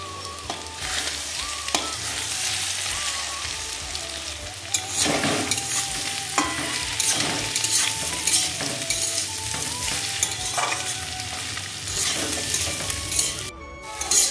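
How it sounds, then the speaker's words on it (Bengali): Cauliflower and potatoes fry in oil in a pan with salt and a broken egg, a constant close sizzle punctuated by repeated metal scrapes and stirring clatters, with no talking. "ফুলকপি আলু ভাজা প্রায় হয়ে এসেছে।"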